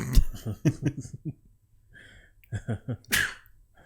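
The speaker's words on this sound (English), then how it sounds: "I feel another sneeze coming on." Talking, then a pause, more talk, and a sharp, explosive sneeze bursting out close up near the end.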